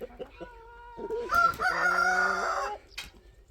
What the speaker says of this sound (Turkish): Horozlar da diyor günaydın size.